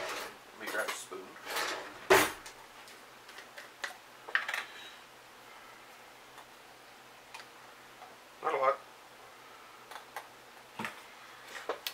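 Someone grabbing a spoon from a kitchen drawer while cooking carnitas, with scattered clinks, a drawer rattle and metallic taps of utensils, fairly close, between and under a person talking.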